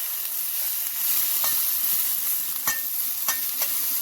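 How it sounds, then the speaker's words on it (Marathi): Ridge gourd fibers frying in hot oil, a continuous close sizzle and hiss broken by a few sharp scraping clicks as a spoon stirs them in the pan. "एकदम छान व्यवस्थित खरपूस होईपर्यंत आपण अशा भाजून घेतल्यात बघा"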